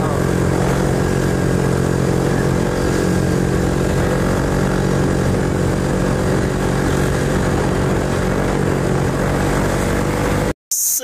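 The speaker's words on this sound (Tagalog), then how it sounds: "Ang ingay talaga ng motor at syempre ang bilis." A racing motorcycle engine roars loud and steady throughout, a continuous high-revving drone that cuts out abruptly near the end.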